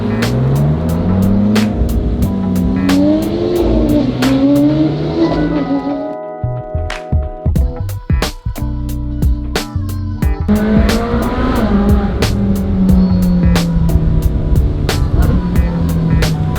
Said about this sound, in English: We're following a yellow SV in a yellow Aperta with an M3 and the Raptor.